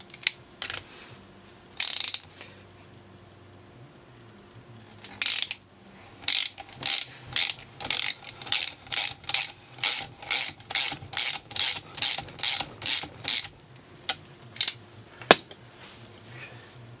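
A ratchet torques down bolts on a DB2 diesel injection pump. A few scattered clicks come first, then a long run of rapid, evenly spaced ratcheting bursts, loud and close, with no speech.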